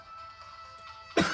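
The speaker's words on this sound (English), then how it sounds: "Gonna cough." A single sharp cough bursts out near the end during a let's play of Danganronpa 2, loud and close after a quiet stretch of game background sound.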